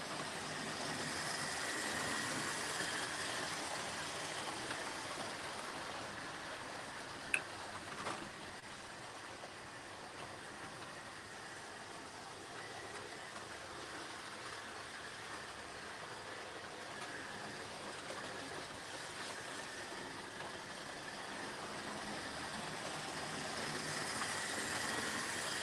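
A train runs through Partick Hill Station, a continuous broad rumble and wheel roar that holds steady for a long stretch, swelling slightly at the ends, with one sharp clank partway through.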